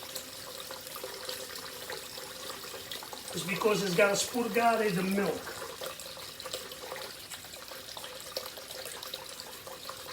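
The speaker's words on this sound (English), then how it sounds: "Now we're gonna let the water run, and we'll just let it run" Cold tap water runs steadily into a sink over homemade caciocavallo cheese curd, a soft continuous hiss with someone speaking briefly midway.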